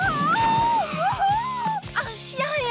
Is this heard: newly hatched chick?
no